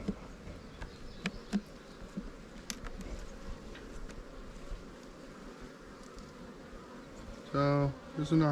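Bees buzz steadily around the hives of a newly set-up bee yard, a dense continuous drone near the listener, broken by a few brief knocks and a short louder burst near the end.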